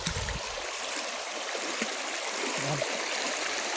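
A forest stream in Nakhon Nayok runs high and fast, giving a steady, fairly close rushing wash of flowing water with no voices.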